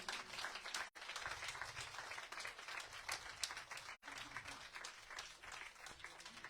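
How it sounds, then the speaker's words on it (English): Quiet, distant applause from a temple congregation during a night of yagna celebrations in St. Martin, a steady patter of many hands with two brief dropouts in the recording. "Give a big round of applause for the president of our temple, Bahen Mahendri."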